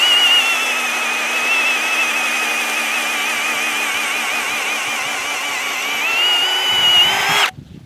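A Milwaukee M18 Fuel impact drill set to its lowest speed bores into cypress wood with a loud, sustained, high motor whine. The whine holds for about seven seconds and then cuts off sharply.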